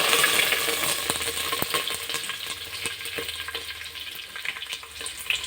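Curry leaves hit hot oil for a mustard-seed tempering in a home chicken curry, giving a steady, dense crackling sizzle with sharp pops that carries on throughout, close and fairly loud.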